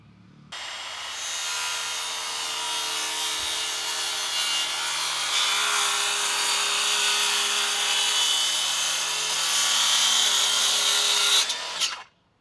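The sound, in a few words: power saw cutting the wooden top shelf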